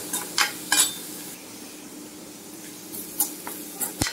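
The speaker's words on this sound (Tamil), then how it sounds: "ரசத்துக்கு பூண்டு சீரகம் எல்லாம் அரைச்சல அதை போட்டு வணக்கியிருக்கேன்" Ground garlic and cumin are sautéed in a pan for rasam. A soft sizzle runs under scattered clinks and scrapes of a stirring utensil against the pan.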